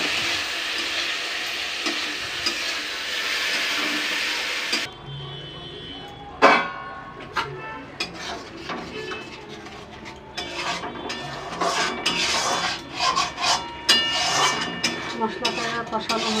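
Spice paste with turmeric and salt sautéing in a pan, with a steady hiss at first, then a run of scraping, rasping stirring strokes of varying loudness.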